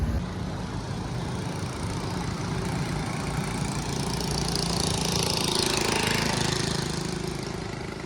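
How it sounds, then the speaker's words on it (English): A loud motor vehicle going by on a quiet street in Kampot, Cambodia, its steady engine drone filling the whole stretch, growing slightly louder toward the middle as it nears, with no one speaking. "You get the odd loud motor going by like that one"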